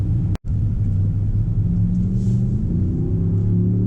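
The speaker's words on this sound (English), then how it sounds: "that V8 does sound so good though" A 2019 Ram 1500 Rebel pickup truck's V8 engine idles close by in a deep, steady rumble, low and continuous, with a brief dropout near the start.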